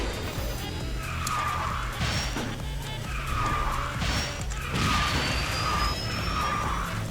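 Porsche Boxster kart racing in a video game, engine drone with repeated tire screeches and skids roughly every second or two, steady and moderately loud with no voices.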